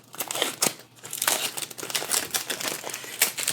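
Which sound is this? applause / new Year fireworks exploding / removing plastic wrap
removing plastic wrap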